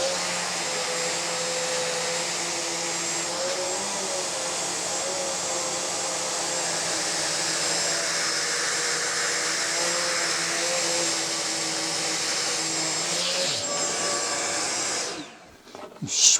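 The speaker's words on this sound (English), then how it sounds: "switching to a small drum sander, which will just enable me to put a slightly better finish on it" A small handheld drum sander finishing an engine combustion chamber gives a steady high-pitched whine at constant speed. The whine holds for about fifteen seconds, then winds down and stops with a short final clatter.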